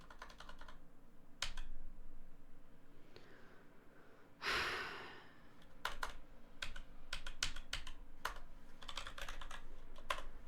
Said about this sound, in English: What the fuck is going on with my keyboard?